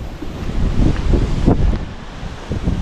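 Strong wind roars and gusts against the microphone, a loud, continuous buffeting rumble with no voices.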